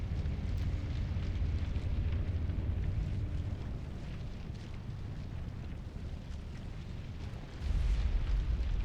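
A low, sustained rumbling explosion or earthquake-like effect in the Mass Effect video game, a dense broad roar that swells again near the end, with no speech over it.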